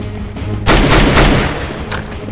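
Semi-automatic rifle fire in Counter-Strike: a tight burst of several loud, sharp gunshots in quick succession, then a single fainter shot after a brief pause, over steady game background noise.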